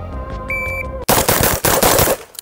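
Rapid shotgun fire from a full magazine at a speed-shooting competition, loud close blasts in a fast tight string after a brief lead-in with a steady electronic tone, the shots bunched in quick bursts with short gaps.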